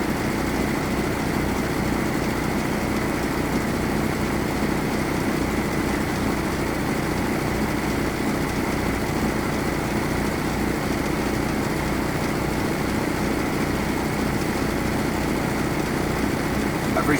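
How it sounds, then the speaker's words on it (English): A truck engine idles steadily through an air brake test, a continuous low, even drone with a rough, throaty hum that stays level and close throughout, with no talking. "I'm now going to let my engine back down to an idle."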